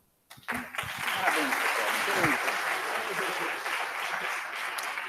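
Audience applause at a financial forum panel in Rio, rising suddenly and holding steady as a dense wash of clapping, with some voices mixed in.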